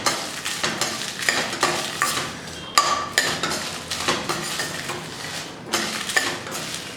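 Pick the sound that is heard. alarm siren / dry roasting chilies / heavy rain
dry roasting chilies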